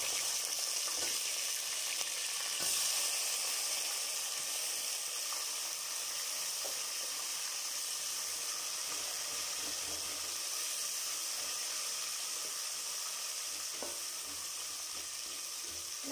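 Thick, lengthwise-cut onions fry in a pan with a steady, faint hiss of sizzling oil that continues evenly throughout, joined by occasional soft stirring scrapes.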